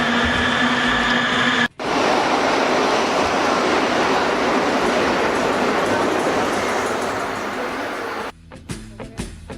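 Rumbling train ride in Milan, a dense, loud clatter of rails and carriage noise running almost the whole time with a brief drop near the start, fading slightly before ending in quieter interior sounds; no speech.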